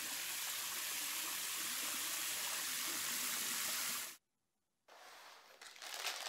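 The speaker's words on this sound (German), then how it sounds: "Und zuletzt spüle ich auch noch die Keramikringe unter fließendem Wasser." Aquarium filter media, ceramic rings, rinsed under a running tap, a loud steady hiss of splashing water that cuts off abruptly, a brief silence, then resumes more softly.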